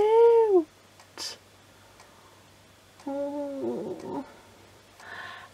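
A cat-shaped toy gives a few short electronic meows, a clear rising-falling call at the start and another later, separated by quiet gaps with light clicks and rustling.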